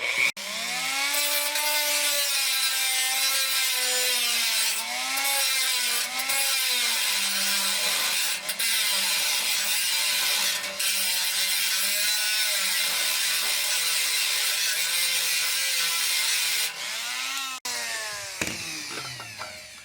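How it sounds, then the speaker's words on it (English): A high-pitched rotary tool whines steadily while grinding the rivet heads off a metal TV/radio chassis, its pitch wavering slightly under load, then winds down near the end. "you can grind the heads off the rivets"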